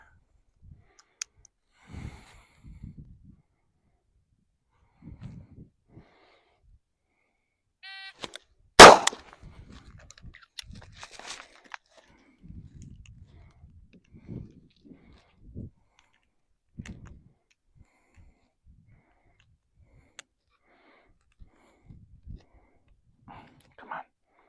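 Loose cartridges loaded by hand into a revolver cylinder, sparse quiet metallic clicks and small clacks scattered across a mostly silent stretch, with one sharper snap partway through and faint breathy voice moments.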